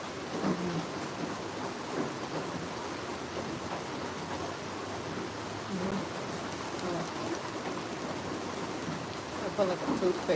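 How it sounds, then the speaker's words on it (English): Steady rain falls outdoors with rolling thunder, a continuous wash of drops close by, with low rumbles swelling now and then over the full length. "It's raining."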